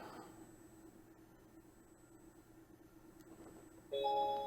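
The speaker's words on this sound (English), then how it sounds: "there's a chime, but the face of Misa does not react" A Misa robot plays a short message notification chime, a bright multi-tone ding that rises suddenly out of a quiet room hiss near the end.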